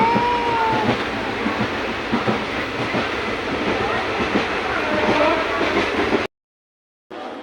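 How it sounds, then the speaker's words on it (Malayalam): A train rumbles steadily along the tracks with a continuous rattling roar, loud and close, before cutting to silence near the end. "അങ്ങനെ എന്തായാലും ട്രെയിൻ വിട്ടിട്ടുണ്ട്."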